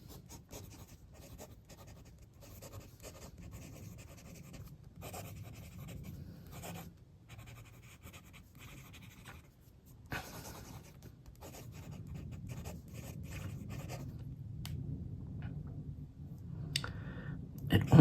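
A Daiso disposable fountain pen with a slightly stubby nib scratches softly across paper in a steady run of quiet writing strokes, close and faint, with a person talking quietly in places.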